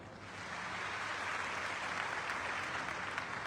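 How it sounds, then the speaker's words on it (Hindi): Audience applause at an AWPL gathering, a steady broad wash of many hands clapping that rises and holds at an even level with no talking. "तो एक बार जोरदार तालियां हो।"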